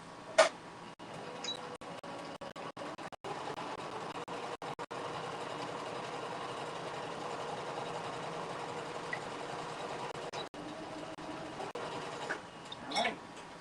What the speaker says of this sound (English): I'm just going to sew a straight line on one side of